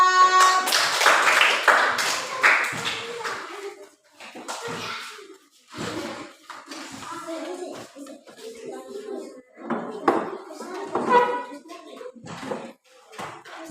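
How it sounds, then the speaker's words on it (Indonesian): A classroom of students claps for group 4, a burst of scattered hand clapping mixed with children's voices and chatter, rising and fading in uneven waves. "kalau begitu tepuk tangan untuk kelompok 4"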